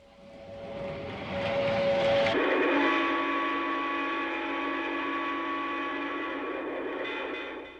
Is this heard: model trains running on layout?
yes